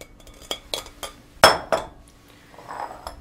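Food for a roasted leg of lamb, marinated a while, is moved into a fresh bowl: a handful of utensil-on-dish clinks and taps, one sharp loud clink near the middle, with softer scrapes and knocks between.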